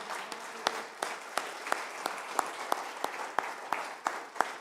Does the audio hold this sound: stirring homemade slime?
no